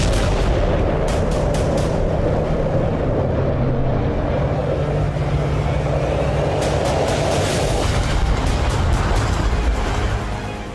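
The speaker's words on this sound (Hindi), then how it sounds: "लेकिन रूसी नौसेना यूक्रेन का हमला नाकाम नहीं कर पाई और जबरदस्त धमाका हुआ।" Huge explosion on a Russian warship in the Black Sea after a Ukrainian attack: a sustained, loud, roaring blast rumble with crackling bursts, dense and continuous throughout.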